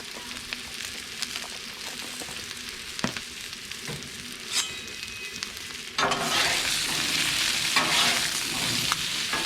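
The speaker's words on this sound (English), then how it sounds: "Get these taters cooking." Diced, washed russet potatoes fry in oil on a Blackstone griddle, giving a steady sizzle that sits low at first, then jumps to a loud, dense crackle partway through, with a few scraping stirs along the way.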